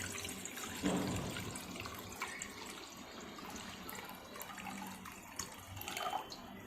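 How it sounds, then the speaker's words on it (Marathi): Water runs and splashes into a kadhai holding raw mango pieces at close range, a steady pouring wash with small clinks and drips, no voices. "ते कढईमध्ये आपण पाणी टाकून घेणार आहोत"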